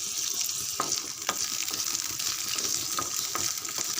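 Ginger pieces and four cloves of garlic sauté in a pan for a peanut chutney, giving a steady close sizzle broken by a few sharp scrapes of stirring, with no voices.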